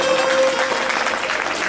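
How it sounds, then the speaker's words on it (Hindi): An audience claps loudly and steadily at a Shrimad Bhagwat Katha gathering in Manegaon, Chhindwara, a dense crowd applause that fills the short moment without any speech over it. "आदरणीय लक्ष्मण जी के लिए जोरदार ताली बजाएं।"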